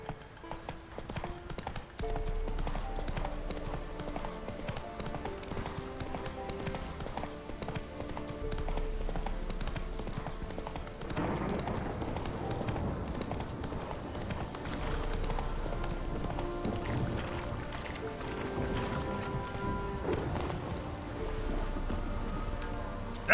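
Horse hooves clip-clop steadily at a gallop in The Witcher 3, a loud rhythmic trot running the whole way over game music and ambient rain-like noise.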